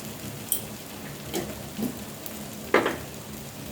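Fish curry with potatoes being sautéed in a pan, a soft steady sizzle with a few scattered scraping and tapping stirs from a utensil, close and fairly quiet.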